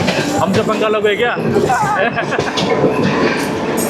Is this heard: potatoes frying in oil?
no